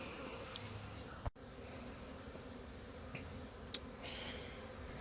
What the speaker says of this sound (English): It's a good size swarm